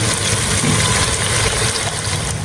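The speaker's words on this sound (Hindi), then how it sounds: "अब मैं ऐड करूँगी पानी।" Water poured from a glass into a pot of potato mutton curry, producing a steady, moderately loud gushing splash that lasts a couple of seconds.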